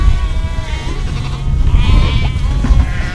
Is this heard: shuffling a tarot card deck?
no